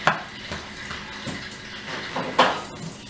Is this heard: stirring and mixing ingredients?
yes